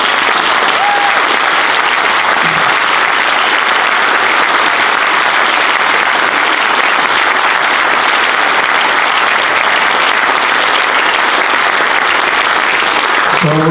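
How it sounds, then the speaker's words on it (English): Sustained audience applause from a crowd at a speech, a dense, steady roar of clapping that fills the whole stretch at a loud, even level without a break. "And I think that deserves an applause"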